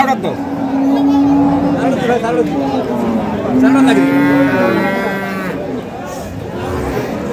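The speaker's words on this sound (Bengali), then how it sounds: "দিনাজপুর জেলার আমবাড়ি হাটে যে দুধের গাভী গরুগুলো প্রাইভেট করা হচ্ছে" Dairy cows of Sahiwal, Sindhi and local breeds low loudly at Ambari livestock market in Dinajpur, two long drawn moos standing out over crowd murmur and market noise.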